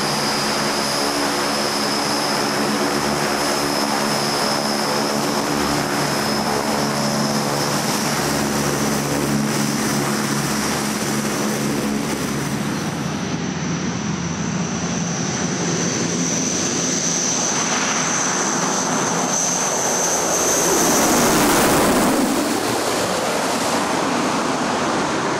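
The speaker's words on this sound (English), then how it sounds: "And departure. And take off." A propeller airplane over an African rhino sanctuary starts its takeoff run, the engine droning steadily and loudly with a buzzing propeller tone, then surging and shifting as it lifts off; brief voices are heard early on.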